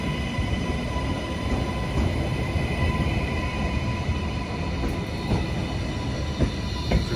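A train rumbles steadily from inside a carriage on the Manchester Piccadilly to Leeds line, with continuous low roar, faint high hum and occasional clicks of wheels on track.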